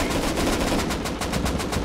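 Rapid automatic gunfire in the survival game Rust, a dense continuous burst of shots rattling steadily for a couple of seconds with no talk over it.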